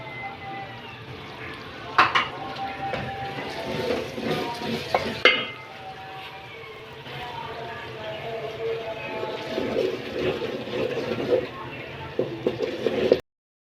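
Masala with turmeric and yogurt frying and being stirred in a pan for an aloo matar curry, a steady sizzle with scraping stirs and a few sharper clinks, close and moderately loud throughout.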